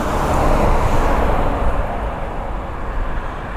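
A Honda SH Mode 125 fuel-injected scooter runs flat out at top speed, giving a steady, loud broadband roar of engine and wind that holds constant and then eases slightly toward the end.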